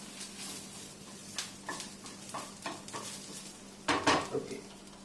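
An egg frying in a kitchen pan gives a faint background sizzle, broken by clinks and scrapes of a utensil stirring against the pan, with a louder clatter near the end.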